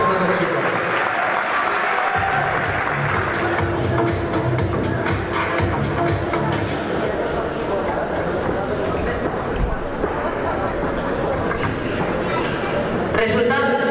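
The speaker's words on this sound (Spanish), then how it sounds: "Un fuerte aplauso para estos dos chicos." Crowd applause and cheering fill the arena at the end of a youth men's 64 kg combat match, a dense, steady roar that carries on throughout while an announcer talks over it.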